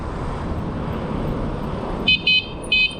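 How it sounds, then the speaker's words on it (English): A bicycle horn sounds three short, sharp honks, close and loud, over steady traffic and road rumble. "you might hear me use my horn in a second"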